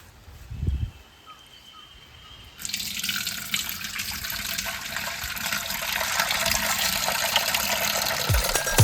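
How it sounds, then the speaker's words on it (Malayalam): Spiced buttermilk strained through a sieve and poured into a larger vessel: a brief knock first, then a steady, close, full rush of pouring liquid that runs unbroken to the end, with no talking. "നല്ല അരിപ്പ വെച്ചിട്ട് അരിച്ചൊഴിക്കണം."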